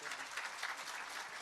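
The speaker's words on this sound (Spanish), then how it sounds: "Un fuerte aplauso" An audience at a debate between a pastor and a Catholic gives dense, even applause, a steady wash of many hands clapping, heard faintly and at a distance with no talk over it.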